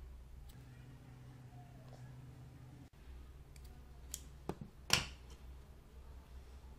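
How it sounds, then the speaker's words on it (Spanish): Scissors snip off leftover cord after a double knot while making a Batman-symbol plush toy: a few short, crisp snips and clicks close by near the end, over a quiet room hum. "lo atamos con doble nudo aquí está y cortamos el material sobrante"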